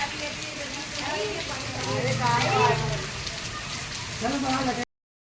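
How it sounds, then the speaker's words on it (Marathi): Steady rain patters on a surface, with people talking intermittently over it at moderate loudness. "आता बाहेर पाऊस चालू आहे, तुम्ही बघू शकता"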